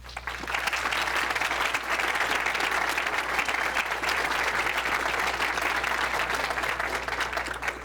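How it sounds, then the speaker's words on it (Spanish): An audience at a lecture applauds the speaker at its close, a dense and sustained burst of clapping from many people that holds steady throughout, with a low electrical hum running underneath. "Les pido un aplauso, por favor."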